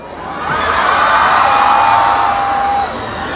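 A festival crowd at a concert at We The Fest 2019 in Jakarta cheers between songs, with a sustained shout or whoop rising above the broad, steady roar before fading.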